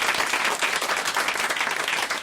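An audience claps loudly and steadily on a French television entertainment show, a dense, close burst of applause with no talk over it.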